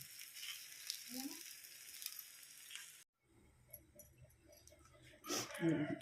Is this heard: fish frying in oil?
yes